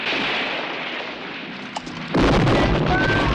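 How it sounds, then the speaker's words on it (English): A large explosion from the 1967 war film The Dirty Dozen hits suddenly after a stretch of rumbling, dense noise, bursting into a loud, sustained roar with crackling debris. "That is gonna make a huge explosion."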